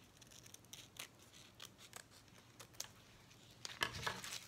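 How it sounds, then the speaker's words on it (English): Scissors snip hook-side Velcro tape into 1-inch pieces for a cosplay strap system, a series of close, crisp cuts spaced roughly half a second apart, with light rustling between snips and no talking. "You take the hook part, okay, and you cut it in about 1 inch"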